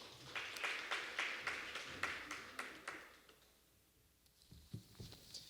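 Sparse, faint applause from a small audience at a forum on inter-Korean cultural exchange and publishing, distinct individual claps fading out, then a few soft taps and room noise.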